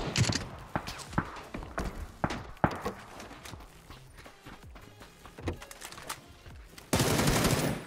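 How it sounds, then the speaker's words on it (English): Video game gunfire, sharp irregular shots and short bursts at moderate distance mixed with scattered footstep-like thuds, ending in a louder sustained roar of rapid fire, no talk. "Who was shooting me, guys? Who was shooting me?"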